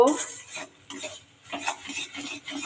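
Semolina being stirred in a pan with fried onions, a spoon scraping and clinking against the metal in short repeated strokes over a faint sizzle, close and fairly quiet, with no talking.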